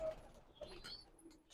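Soft coos from breeding pigeons on a bird and horse farm in the background, faint and low, with some quiet ambient noise around them.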